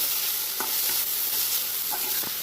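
Fenugreek, mint and spinach leaves are stir-fried in oil in a pan for a spicy vegetable pulao, giving a close, continuous sizzle with several light scraping strokes of the spatula and no speech.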